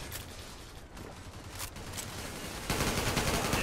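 Gunfire in the online shooter game Zula, a continuous dense crackle of rapid shots at moderate distance that grows louder and harsher toward the end.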